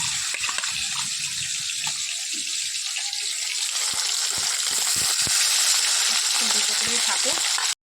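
Fish sizzles and spits in a hot pan, a loud, continuous broadband hiss close to the mic with occasional pops and faint clinks of utensils beneath.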